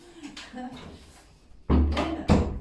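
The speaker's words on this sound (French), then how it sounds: "je ferme la porte" A door pushed shut in a house, giving a sharp thump followed by a second knock, loud and close after a stretch of quiet talking.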